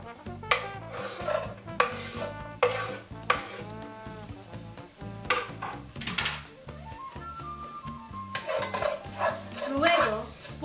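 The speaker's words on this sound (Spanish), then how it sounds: "pon la cebolla picada en la olla y mezcla hasta" Chopped onion stirred in a pot with a utensil, scraping and clinking in repeated strokes against a gentle sizzle, close and steady, with no talk.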